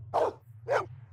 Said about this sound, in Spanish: ¿Tenemos perro?